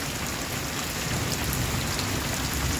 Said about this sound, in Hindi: इतना पानी गिरा थे।